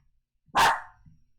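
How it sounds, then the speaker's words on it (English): A single short dog bark, loud and close, rings out alone in an otherwise quiet room. "Dogs going crazy."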